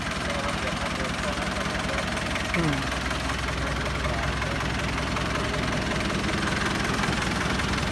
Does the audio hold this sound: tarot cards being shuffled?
no